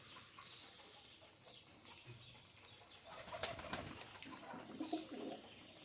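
Healthy Rajshahi Giribaz pigeons in a farm loft give soft, faint coos and small clucking calls, growing busier after a few seconds with light flutters and scuffles, distant and quiet.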